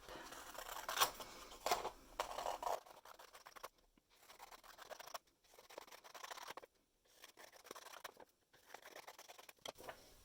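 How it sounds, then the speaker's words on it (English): Scissors snip paper into strips for weaving, several crisp cuts and rustling paper scrapes in the first few seconds, followed by quieter intermittent handling sounds with brief silent gaps and no speech. "using my right hand, thumb in the little hole, fingers in the big hole, cut straight up"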